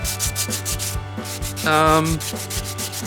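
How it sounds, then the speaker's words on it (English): A dual action sander with 600 grit paper works over a resin model base, a close, buzzing whir with rhythmic scrubbing pulses that briefly swells louder and higher midway before settling back. "I'll do a wee quick demonstration of this using the dual action, and well, I'll be using about a 600 grit"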